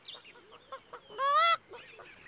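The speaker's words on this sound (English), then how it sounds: "It sounded like hens and ducks, but there aren't any here." Hens cluck and ducks quack at an old farm place: a few soft, short clucking calls surround one louder, drawn-out honking quack, all fairly faint and with no talk.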